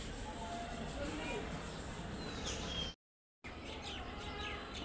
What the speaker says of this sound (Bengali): পাখির ডাকগুলো আমার খুব ভালো লাগে।